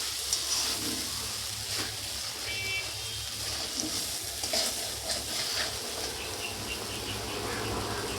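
Cauliflower korma is stirred and fried in a pan, giving a steady, close sizzle with soft, continuous stirring scrapes and no talk.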